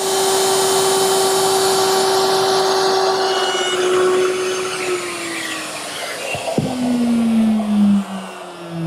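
A power router cuts a dado into two 3.5-inch wide wooden cleats. A loud, steady high-pitched whine runs throughout, and its pitch dips as the bit bites into the wood near the end.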